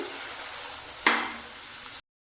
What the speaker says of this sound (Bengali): এবার কড়াইয়ে পরিমাণ মতো তেল দিয়ে ডিম ফুলকপি ছেড়ে দিন